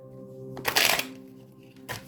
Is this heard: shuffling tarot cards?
yes